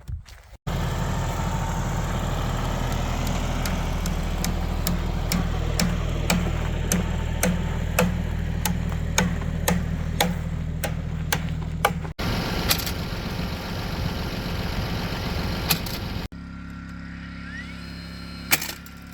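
A Dewalt cordless fencing stapler drives barbed 1 3/4 inch staples over a steady motor hum, firing a quick series of sharp clacks one after another, followed by a couple of louder isolated shots near the end.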